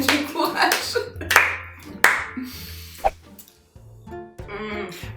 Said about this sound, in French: sais pas pourquoi j'applaudis